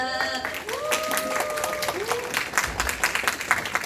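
An audience at a product and business presentation applauds a speaker, steady dense clapping continuing for several seconds with whistle-like tones and scattered voices mixed in.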